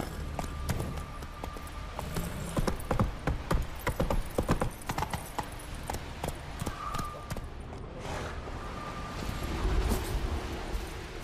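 Rapid hoofbeats of a galloping horse in The Witcher 3: Wild Hunt, played on PS4, drum on close and steady, easing briefly near the middle before picking up again.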